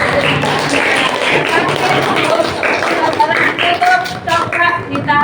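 A classroom of students applauds during a civics lesson, a dense, steady patter of handclaps blending with children's voices and shuffling.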